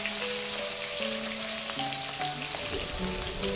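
Katla fish frying in mustard oil in a wok, a steady close sizzle and crackle running throughout without pause, with no voices.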